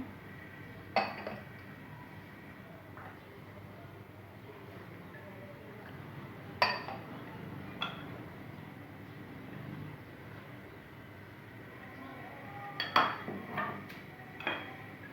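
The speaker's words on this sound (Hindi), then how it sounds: "सारी चीज़ें शामिल करके हम इसे अच्छी तरह से मिक्स कर लेंगे" Chicken with chillies and coriander being mixed in a bowl, giving occasional sharp clinks and taps of a utensil against the bowl over a steady low background hum.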